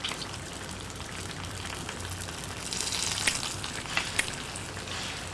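Fried tempering being poured into a Kerala-style ridge gourd and lentil curry, a faint steady crackling sizzle with a few sharper pops toward the end, no voices.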